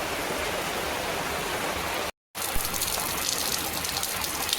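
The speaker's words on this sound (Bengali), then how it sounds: "এই যে আমাদের ছাদ থেকে জল পড়ছে।" Rainwater gushes off a house roof during a downpour in a loud, continuous rush of splashing water that breaks off briefly once before resuming.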